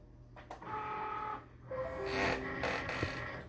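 A Cricut cutting machine loading a sheet of vinyl, whirring motor runs with rising and falling mechanical tones and a small click, quiet and close with no voices.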